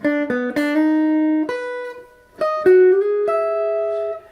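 A solo guitar lick of a handful of clear, sustained notes, with quick plucked starts and a bent, ringing final note, played close and alone.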